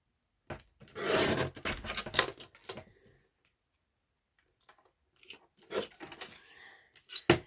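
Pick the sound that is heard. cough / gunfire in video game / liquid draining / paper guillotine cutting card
paper guillotine cutting card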